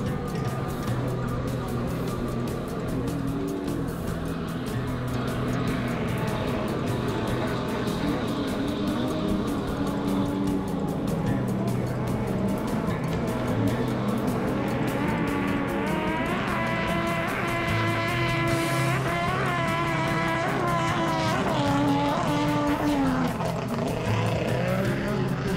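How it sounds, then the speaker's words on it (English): Jet skis race at Pomona State Park in Kansas, heard as a continuous engine drone from across the water. Pitch rises and falls as the craft accelerate and pass, with a steady whine over a low rumble and no talk. "we can hear the jet ski races"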